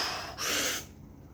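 A sharp, bracing intake of breath, a tight gasp lasting about half a second, close and fairly loud, set between quieter breathing.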